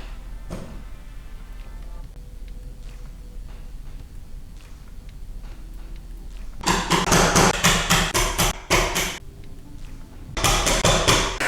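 Hammer striking a chisel while cutting out a door frame for a smart lock install, a quiet stretch followed by loud bursts of rapid, sharp knocks in two close clusters.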